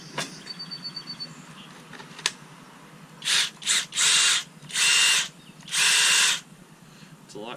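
A Kobalt XTR cordless impact driver fires in five loud, close bursts of hammering whine, short at first and then longer, after a quieter stretch of handling noise and a sharp click.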